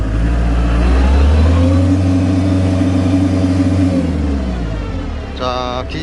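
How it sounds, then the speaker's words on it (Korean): A tractor drives in high third gear as its clutch is pressed, giving a loud, steady engine drone up close that eases and settles toward the end, with no talk. "고속 3단에서 주행을 하면서 클러치를 한번 밟아 보겠습니다"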